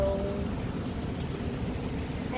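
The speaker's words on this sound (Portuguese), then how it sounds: "Tá frio e tá gelado e tá chovendo." Steady rain falls outdoors on a cold, icy day, a dense continuous patter with no voices over it.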